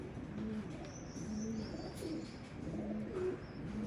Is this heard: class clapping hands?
no